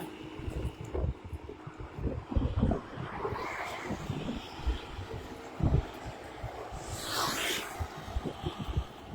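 Gusty wind buffets the microphone in uneven bursts during cast net fishing, with rumbling low thumps and a rushing hiss rising and falling.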